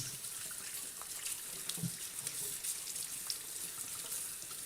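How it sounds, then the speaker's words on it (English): Tap water runs steadily into a sink while hands are washed, a continuous close hiss of splashing water with a few soft bumps and no talking. "Wash your hands, please."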